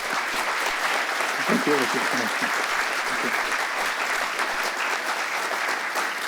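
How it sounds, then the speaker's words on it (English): A lecture audience gives a guest speaker steady, full applause, many hands clapping continuously at an even level, while someone briefly speaks near the middle. "So let's give a warm welcome and applause to our dear guest."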